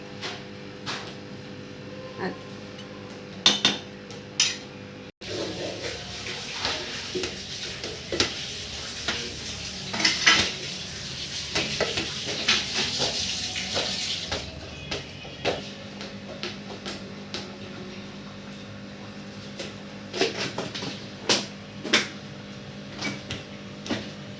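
A tamarind fish curry bubbling steadily in a pot, with a continuous soft simmering hiss, scattered small pops and clicks, and some louder bubbling in the middle stretch, close and moderately quiet with no talk.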